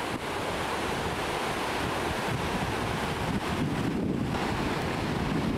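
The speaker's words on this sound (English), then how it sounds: "These are the rapids above the falls." River rapids just above the Lower Falls in Yellowstone, a loud, continuous broadband rush of churning water with no pauses, heard close by.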